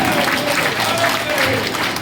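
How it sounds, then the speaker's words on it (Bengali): An audience claps loudly for advocate Amrita Roy as she arrives at a public gathering, dense continuous applause with a voice carrying over the top throughout. "জোরে জোরে করতালি দিন মাননীয় অমৃতা রায় মহাশয়, জোরে জোরে করতালি।"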